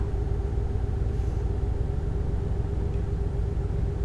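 Scania truck cruising along a Brazilian highway in Euro Truck Simulator 2, a steady low engine drone and rumble running evenly throughout with no speech.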